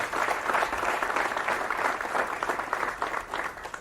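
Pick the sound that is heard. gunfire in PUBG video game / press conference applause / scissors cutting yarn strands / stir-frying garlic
press conference applause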